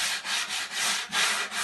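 Hand sanding of wood during a narrowboat fit-out, a steady rasping rub repeated in four or five even back-and-forth strokes, close and continuous with no voices.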